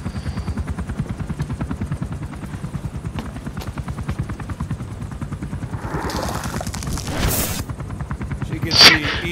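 Helicopter rotor from Metal Gear Solid V: The Phantom Pain, a steady rapid thumping of blades throughout, loud and close, with brief bursts of noise near the end.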